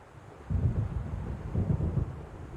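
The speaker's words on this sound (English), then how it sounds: "It seems there's a storm coming." Deep, rolling thunder from an approaching storm in the video game Alan Wake Remastered, swelling in two low rumbles over a constant windy, rainy background.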